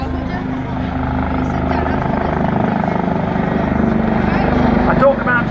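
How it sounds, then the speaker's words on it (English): Helicopters of a display team, the Black Cats, fly a close break during a flat 360-degree turn, their steady rotor and engine drone loud and constant throughout, with a brief swell near the end and talk over it. "this is a good opportunity now for a close break that the aircraft will conduct"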